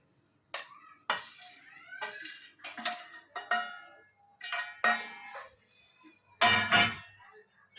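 A spoon stirs bhajiya batter in a bowl. The batter holds gram-style spices, asafoetida, salt, ajwain, sesame, fennel, garlic chutney, lemon juice and sour yogurt. Intermittent scraping and clinking comes in short separate bursts, close by.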